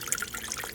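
Water drains steadily from a plumbing drain cock through a hose, a soft continuous trickling and splashing heard briefly and at close range.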